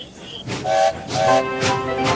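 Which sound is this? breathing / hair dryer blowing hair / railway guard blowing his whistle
railway guard blowing his whistle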